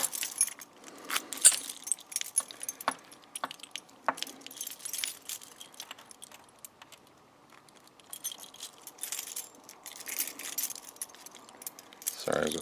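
A bunch of keys on a keychain jangles and clinks in bursts close by while someone removes a padlock key from the ring, with quiet gaps between the rattles.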